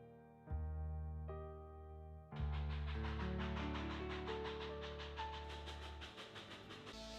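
Steam-era passenger train 246 bound for Sacramento in the East Bay, a loud sustained whistle blast with a second onset, then rhythmic clickety-clack of wheels over rail joints as the train rolls past.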